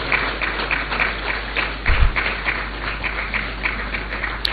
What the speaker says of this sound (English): encourage them with a round of applause